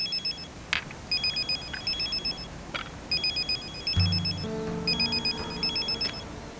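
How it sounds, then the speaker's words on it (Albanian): A telephone rings in repeated short trilling bursts, moderately loud in a quiet room, with a few clicks between rings and a low tone entering near the end. "kam që në mëngjes që telefonoj, pse nuk e hap telefonin?"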